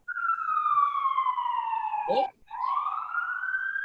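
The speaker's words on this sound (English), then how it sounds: "I hear a siren." A wailing siren sweeps steadily downward in pitch, briefly cut by a short voice, then rises again, loud and continuous.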